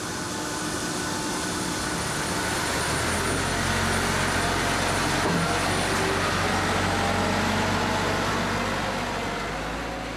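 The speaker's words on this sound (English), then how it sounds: "The final moments of departure are here, and the pushback of the aircraft can at last get underway." An airliner is pushed back for departure at Bristol Airport, its engines holding a steady, loud, broadband whine and roar throughout, with no voices heard.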